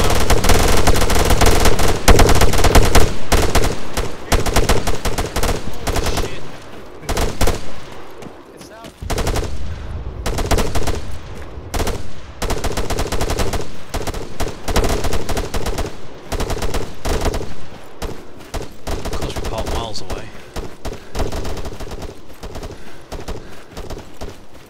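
Automatic rifle gunfire in the ArmA 3 military game, loud sustained bursts and rattling volleys that continue almost nonstop, with brief lulls between strings of shots.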